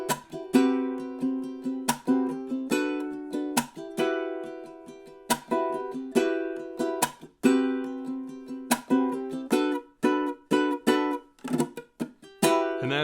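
Ukulele strumming the rhythm of a song, a steady run of crisp chord strokes with accented hits and short ringing chords over several bars, close and clear with no voices.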